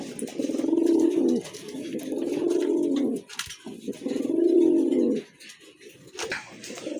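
Large pigeons coo in repeated low, throaty phrases, each lasting about two seconds with short gaps between them. The birds are close and clear, with no talking.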